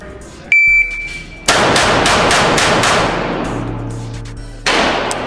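Loud, sharp reports from a Springfield Armory Hellcat .380 pocket pistol fired in a quick string on a range, each shot ringing out close and hard, with a steady tone and some background noise between bursts.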